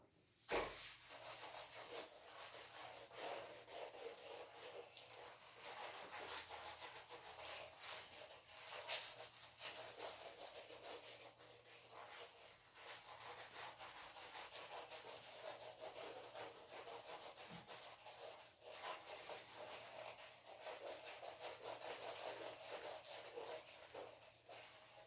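Whiteboard or blackboard wiped clean during an engineering lecture, a quiet, continuous scratchy rubbing that sweeps back and forth without pause and has no talking over it.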